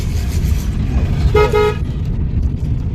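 A car horn gives two quick honks in a row, loud and close, over a steady low rumble of traffic.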